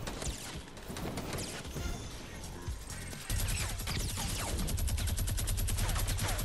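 A minigun in the Fortnite video game fires in a dense, continuous roar of rapid shots that grows louder partway through, layered over busy game action.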